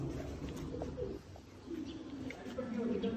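Low, rolling coos of a champion pigeon in Sialkot repeat over a steady outdoor background, with a few faint chirps and some murmured voices in the distance.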